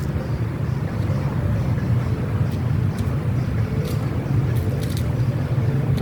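Steady low engine drone with rushing wind, continuous and fairly loud throughout, from a motorcycle being ridden in Vietnam.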